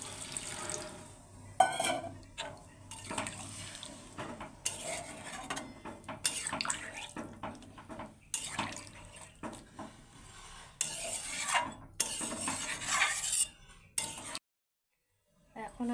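Water is added to a meat curry cooking in a pot, splashing and pouring in bursts amid clattering of pots and utensils, with brief pauses and a short silent gap near the end.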